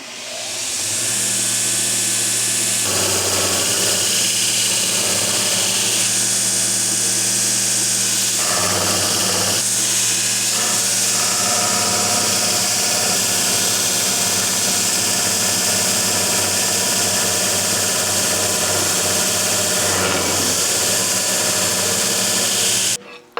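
A loud, continuous whine of a battery-powered slow-speed carbide grinder sanding, with a few brief dips and restarts in its steady high-pitched roar, no talking.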